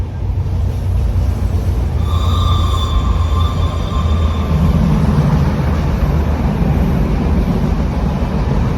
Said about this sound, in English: There it is, the Sri Lanka train.